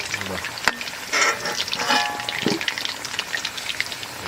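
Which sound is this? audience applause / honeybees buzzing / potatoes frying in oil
potatoes frying in oil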